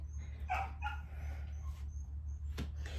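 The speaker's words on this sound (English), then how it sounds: "I'm so sorry about the pup in the background now" A puppy whimpers and yips faintly in the background, a few brief high cries over a steady low hum.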